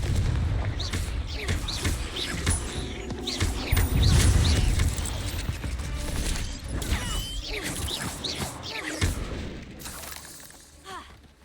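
Confringo fire-blast spells cast in a Harry Potter wizarding game, a dense run of booming blasts and crashing impacts, loudest midway and tapering toward the end, with a voice calling out over the combat.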